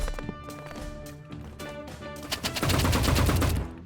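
A golden AK47 firing in the shooter game Rivals: rapid automatic bursts that grow into a loud, steady stream of shots near the end, over faint game background tones.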